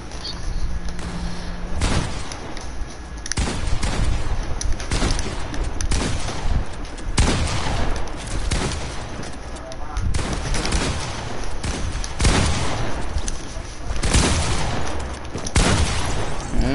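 Repeated heavy shotgun blasts in a fast-paced multiplayer shooter game, loud booming shots roughly every second or two across the whole stretch, with excited players talking over the gunfire.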